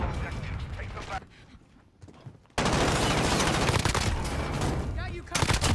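Video game gunfire, with loud bursts of rapid automatic fire that stop for a quieter gap and then resume, dense and close, alongside game voices.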